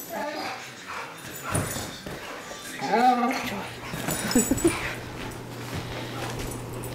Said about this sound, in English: Are you a happy dog?